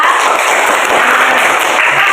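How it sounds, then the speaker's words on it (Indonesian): Classroom applause for a student, a short, loud, dense burst of clapping from pupils lasting about two seconds. "Tepuk tangan untuk Sausara."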